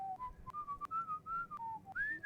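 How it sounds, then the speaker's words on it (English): In the video game Warsim, a traveling bard whistles an old gnomish tune: a clear, close solo melody of sustained notes gliding up and down, broken by short gaps. "He has to whistle you an old gnomish tune."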